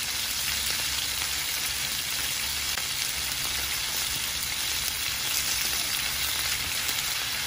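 Chicken pieces for a stew browning in a hot pan, a dense continuous sizzle and crackle that stays close and steady throughout, with no speech.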